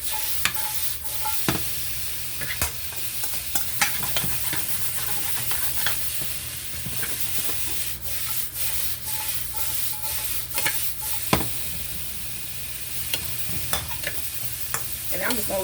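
Sweet and sour pork stir-frying with pineapple chunks, a loud close sizzle with frequent sharp scrapes and knocks of a utensil against the pan in an uneven rhythm.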